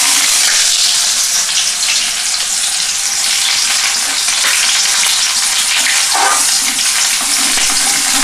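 Chopped onion hits hot oil with tempered spices for a Bengali Bombay duck fish curry, giving a loud, steady sizzle and hiss that fills the whole stretch, with brief stirring scrapes and no voices.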